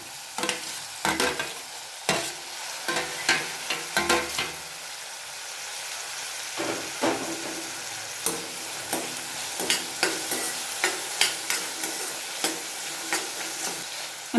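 Chopped tomatoes sautéing in a pan for paneer bhurji, a steady soft sizzle under repeated sharp scrapes and knocks of a spoon stirring against the pan, close and without talk.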